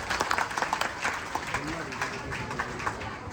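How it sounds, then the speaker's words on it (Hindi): Audience at a religious katha gathering claps during an honoring ceremony, a scattered, uneven patter of hands with distinct individual claps, fairly faint, with a voice and background noise mixed in. "तालियां भाई तालियां।"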